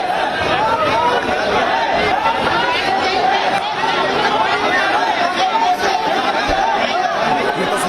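A large crowd packs the lane around Surya's house, a loud, constant babble of many voices with scattered chuckles, and one voice talks clearly above the hubbub.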